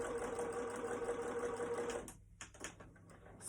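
A sewing machine runs steadily while stitching a fabric face mask, a continuous close whir for about two seconds, then stops and gives way to a few quieter clicks and handling sounds as the fabric is pivoted at a corner.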